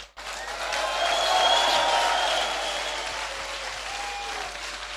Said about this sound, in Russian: Это правильное место, чтобы аплодировать громче.